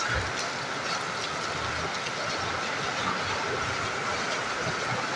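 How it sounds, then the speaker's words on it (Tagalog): Heavy rain from a tropical storm pouring down in Bato, Leyte, a dense, steady hiss of large drops with a low rumble underneath that holds an even level throughout. "Ang lakas ng ulan, guys."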